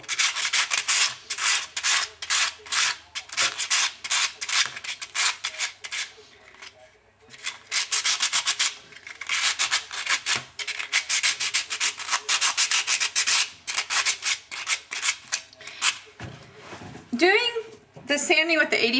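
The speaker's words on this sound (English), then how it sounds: "sanding with the 80 paper or 80 grit paper actually takes the longest" Rhythmic, scratchy rasping of coarse 80-grit sandpaper scraped back and forth over sheet metal, close up, in steady bursts with a few brief pauses.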